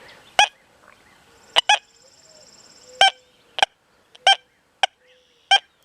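A Deus 2 metal detector set to 40 kHz sweeps over an IH coin, giving a series of short, nasal, honk-like tones at irregular intervals, sometimes in quick pairs, over a quiet background.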